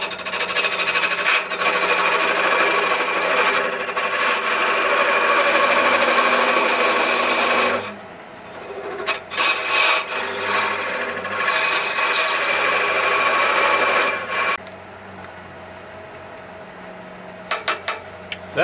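A carbide cutter turns wood on a lathe at speed 600, making a loud, steady, gritty scraping roar. It breaks briefly, resumes with choppier contact, then drops to a quieter hum with a few small knocks.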